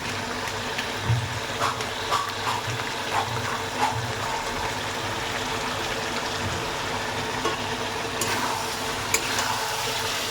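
Chicken frying in a pan with onion, cumin and coriander powder, a steady sizzle with soft scraping and stirring taps over a continuous low background hum.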